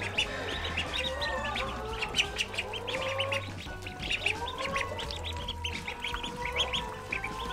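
Farm hens and ducks on a summer Canadian homestead cluck and quack in a busy, continuous chorus, with overlapping bird calls close by and steady low background noise throughout.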